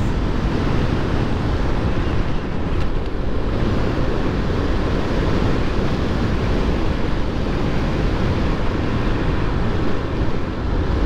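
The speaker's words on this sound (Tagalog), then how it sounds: "Lakas ang hangin." Strong wind blasts across the microphone on a bypass road ride from Lipa, Batangas toward San Pablo, Laguna, in a loud, continuous roaring rush that barely lets up for the whole stretch.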